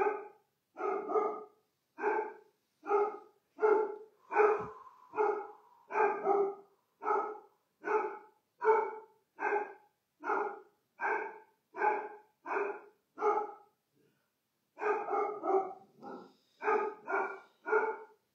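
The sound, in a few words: dog barking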